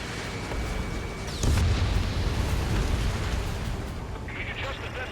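A missile explosion in the jet combat game Ace Combat 7, a deep booming blast that swells over constant engine roar and then rumbles away, with a warning tone.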